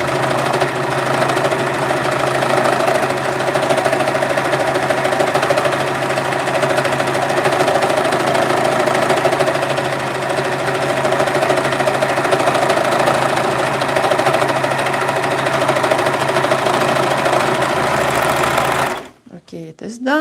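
A sewing machine stitches a second pants leg in one long, loud, unbroken run with a steady mechanical hum and rapid needle rattle, then cuts off abruptly near the end.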